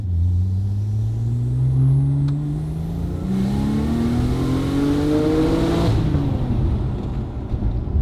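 Porsche 996 911 Turbo accelerating hard, a loud continuous engine drone with rising harmonics as revs climb through the gears, steady and close throughout with no talk.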